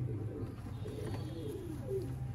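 Soft, low coos from Sialkoti breeder pigeons murmur continuously, close by, with a faint steady hum underneath and no talking.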